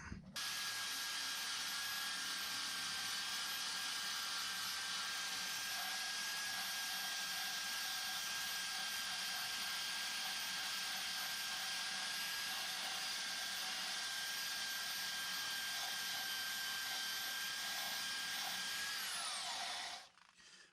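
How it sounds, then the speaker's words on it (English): A nylon abrasive stripping wheel on a power tool strips undercoating from the steel wheel well of a 1966 Mustang, a loud, steady high-pitched whine and grinding rasp running unbroken for about twenty seconds, then spinning down at the end. "a nylon abrasive wheel"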